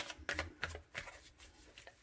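Tarot cards being riffled and shuffled in quick bursts of crisp flutter, close by and fairly quiet, with brief pauses between shuffles.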